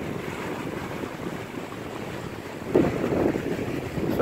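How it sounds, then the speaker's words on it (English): Cold wind gusts across a lake after a flood, a steady broadband roar buffeting the microphone, with a sharper rise in the second half. "That wind is so cold."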